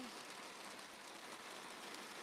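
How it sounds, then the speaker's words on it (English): Heavy rain pours steadily outside, a dense, even hiss of downpour throughout, faint and distant with no voices. "it's really pouring now"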